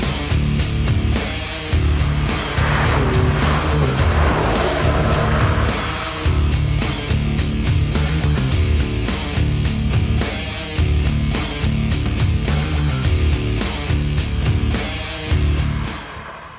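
A VW Golf GTI Clubsport hot hatch pulls away and drives on, its engine note loud and steady with a deep low rumble and throttle changes, continuous for the whole stretch.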